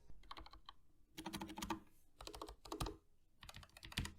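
Typing on a Redragon K618 Horus full-size mechanical keyboard with low-profile red switches: quick bursts of clacking keystrokes in several separate runs, close and clear, with short pauses between and no talking.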